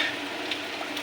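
A pot of mung bean stew with eggplant simmers at a steady boil, giving a continuous soft bubbling and sizzling hiss close by, with no speech.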